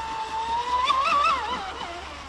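Custom-built Pursuit SR RC speedboat with a TP 4080 motor on 6S power and a ZTW 200A controller, its high electric whine rising and falling in pitch as it speeds up and slows, steady and fairly loud throughout.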